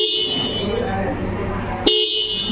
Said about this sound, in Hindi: हॉर्न साउंड काफ़ी तगड़ा है